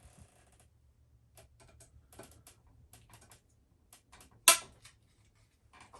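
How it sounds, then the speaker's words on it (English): A Snap-on torque wrench ratcheting and clicking as a rifle build for a lightweight Bergara B14 in 300 PRC is tightened, giving soft clustered ticks close up and one sharper, louder click near the end, in a quiet room. "This is a snap-on torque wrench, by the way."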